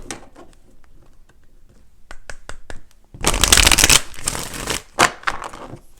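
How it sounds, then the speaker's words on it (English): Tarot cards are shuffled up close: a few light taps and flicks, then a loud burst of riffling, followed by softer slaps and shuffles. "let's go ahead and do 4 major shuffles here"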